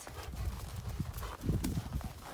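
Hooves of a horse clip-clop steadily during a dressage schooling session, the rhythmic footfalls close and clear with a brief whinny-like tone and no talking.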